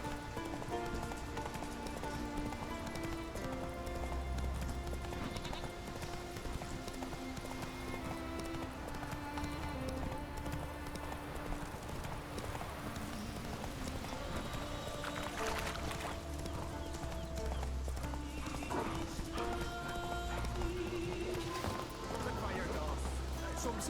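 Roach, the horse in The Witcher 3, gallops with rapid rhythmic hoofbeats under game music and occasional talk, moderately loud throughout.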